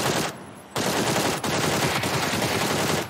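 Gunfire in the video game PUBG rattles in dense, loud automatic bursts that fill the clip, with brief breaks between volleys and no speech.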